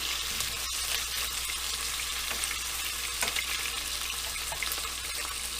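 Oxtail frying in a pan for Jamaican-style oxtail, a steady loud sizzle and crackle that continues throughout with occasional stirring clicks.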